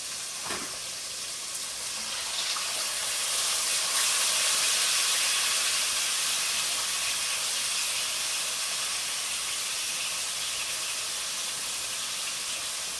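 Two pieces of chicken quesadilla fry in hot oil, a loud, steady broadband sizzle that swells after a brief clatter near the start and holds through to the end.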